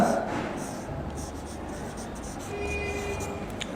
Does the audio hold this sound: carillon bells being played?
no